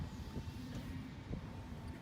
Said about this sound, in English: Sorry about the background noise. We've got some trucks doing some stuff.